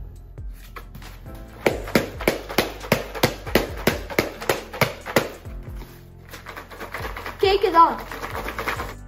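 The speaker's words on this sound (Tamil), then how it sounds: "முதல்ல இந்த காய் எடுத்து நல்லா அடிக்க போறோம்." Someone beats a dried bottle gourd to loosen its seeds, landing about a dozen sharp, evenly spaced hollow knocks up close. A pause follows, then a looser flurry of rattling knocks and clatter.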